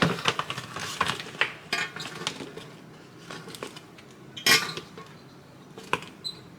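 Crispy potatoes scraped and tipped onto a plate, with a series of close clinks and scrapes of utensil against dish, irregular and fairly quiet, louder knocks near the middle.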